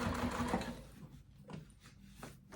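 A sewing machine back stitches a seam, a dense whir at the start that gives way to a few quieter, spaced mechanical taps, close and without speech.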